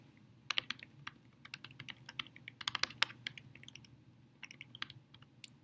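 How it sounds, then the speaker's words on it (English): Keys clatter on a computer keyboard in quick, irregular bursts of clicks with short pauses, close and fairly quiet, no voices. "I'm going to type where it says add a comment"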